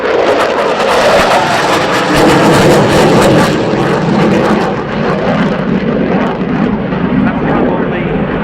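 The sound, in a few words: Dassault Rafale C jet performing display manoeuvre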